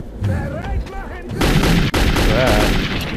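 Gunshots strike a wall in Metro 2033, a burst of loud, sharp reports after a quieter stretch with a voice speaking at the start.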